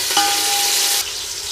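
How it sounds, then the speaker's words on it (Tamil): Sliced onions sauté in a pan for Madurai-style mutton dum biryani, with a continuous close sizzle, a brief stirring scrape and a short ringing tone of metal on the pan. "வெங்காயம் நல்லா வதங்கணும்."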